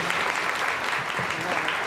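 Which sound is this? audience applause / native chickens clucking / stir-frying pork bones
audience applause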